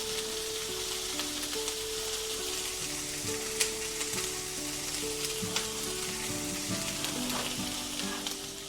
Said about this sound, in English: Let me just drop the meat in the pan